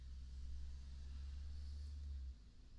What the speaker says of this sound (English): You'll probably be able to hear a little bit of street traffic outside as well.